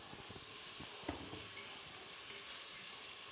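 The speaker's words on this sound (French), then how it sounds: "on va faire revenir nos crevettes décortiquées dans de l'huile d'olive" Peeled shrimp sizzling in olive oil in a pan, a quiet steady crackling hiss with small pops and occasional stirring clicks, close and alone without talk.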